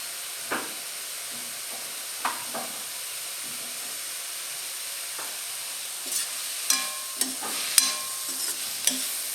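Cabbage and pepper cooking uncovered in a pan, a faint steady sizzle with scattered soft spatula scrapes and stirring clatters that grow busier toward the end, no voices.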